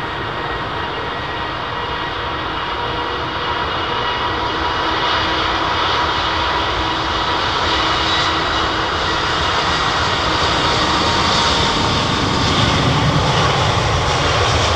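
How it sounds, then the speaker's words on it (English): A British West Indian Airlines Lockheed TriStar jet at London Heathrow roars loudly and close, a steady, broad engine rumble and whine that swells gradually over the span. "BWIA TriStar, British West Indian Airlines"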